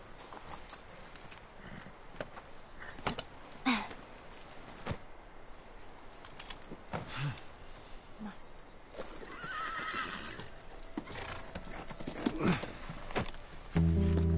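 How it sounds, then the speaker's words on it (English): A horse whinnies a couple of times amid clip-clopping hooves in The Last of Us, over a steady game-like background with occasional thuds. "So I still get stuck with the slow horse."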